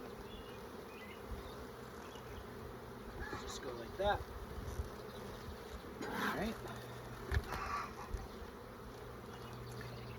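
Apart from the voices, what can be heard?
honey bees buzzing around a hive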